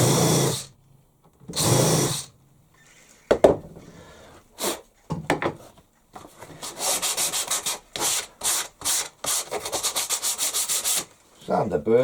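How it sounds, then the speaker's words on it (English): A countersunk hole in wood gets its burrs sanded off in bursts of close rubbing, first two long strokes, then a quick run of short rhythmic scrubs separated by brief pauses. "Sand the burrs off."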